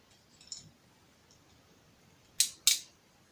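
Plastic Lego bricks from a 4+ set snapping together during building, two sharp close clicks in quick succession after a faint softer rattle, otherwise quiet.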